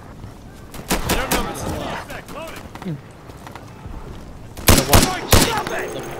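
Gunfire in the video game Insurgency: several sharp, loud shots burst out in quick clusters, with a pair of strong blasts near the end, while voices talk over the action.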